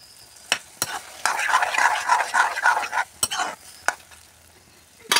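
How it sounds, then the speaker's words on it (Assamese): Spoon stirring a taro and meat curry in a pot, close scraping and sizzling with a few sharp knocks against the pot, alone without talk. "লৰাই দিছোঁ যাতে কচুখিনি একেবাৰে গুৰি হৈ যায়"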